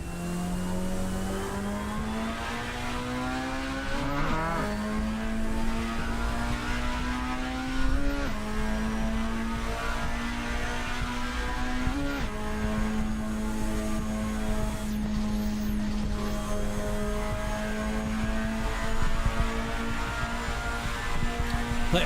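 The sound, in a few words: car drifting in video game Assetto Corsa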